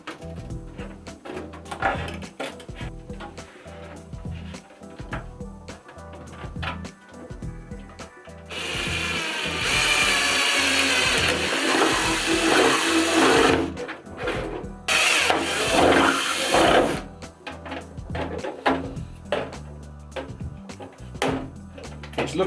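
Cutting and trimming the clear body shell of a Tamiya Mercedes Unimog 425 model kit, with long, harsh rasping bursts of tool work standing out loudly over quieter background music.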